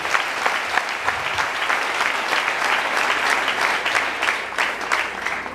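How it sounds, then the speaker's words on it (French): A church congregation at a sermon gathering breaks into sustained, dense applause, loud and steady throughout with no pauses and no voices rising above it. "On acclame le Seigneur."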